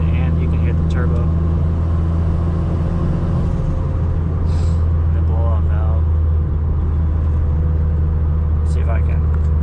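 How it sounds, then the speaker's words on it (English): A Dodge Caliber SRT4 with a big turbo and an exhaust cutout drones with a deep, steady engine rumble from inside the car while driving, under ongoing talk. "now it's good, and you can hear the turbo"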